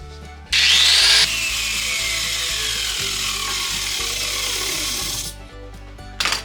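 Grinder smoothing the sharp edges of a wooden stump, a loud close high whine that strains as it bites, running continuously for about five seconds before cutting off.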